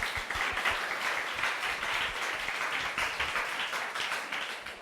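Atmospheric science undergraduates at a Kongju National University thesis presentation session applaud after the talks, with dense, close hand clapping sustained evenly for several seconds and no speech.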